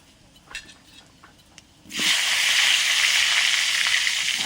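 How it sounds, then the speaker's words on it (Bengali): Potatoes hit hot oil in a pan for a meat curry, bursting into a loud, steady sizzle halfway through after a few quieter clinks and rustles. "আলু দিয়ে মাংস রান্না করি, আলুগুলো ভেজে নিচ্ছি।"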